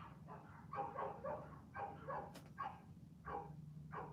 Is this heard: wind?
no